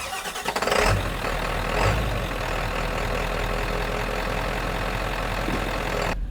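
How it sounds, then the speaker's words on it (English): Ford 7.3 Powerstroke diesel Super Duty truck starting and settling into a loud, steady idle, a deep continuous clattering rumble heard up close with no talk. "You can just hear how loud this truck is at idle."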